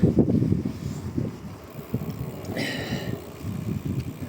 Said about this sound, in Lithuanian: Na jo, šiandien vėjelis.